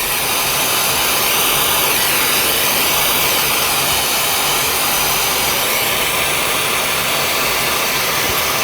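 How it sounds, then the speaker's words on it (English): The smaller pre-mix flame of a Nortel Major/Minor glassblowing torch burns as a steady, loud, close roar, broadband and unchanging, with no voices. "just using the smaller pre-mix flame to start out"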